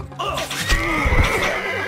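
A horse in the strategy game Stronghold Crusader gives one loud, close whinny with a shaky, rising-and-falling pitch, joined by a few hoof clops, with no voices.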